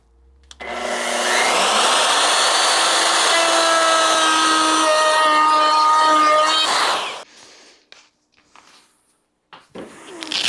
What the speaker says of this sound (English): I can route that relief cut and then follow it up with the dovetail.